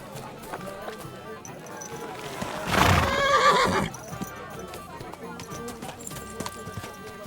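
A horse whinnies loudly for about a second in the game Kingdom Come: Deliverance 2, set against a steady background bed with faint clip-clop and other ambient sounds.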